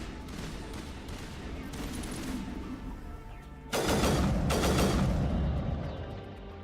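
Rapid bursts of gunfire from new rounds in the Mass Effect video game, starting as a busy crackle and swelling into a loud, sustained volley of shots in the second half, with no voices.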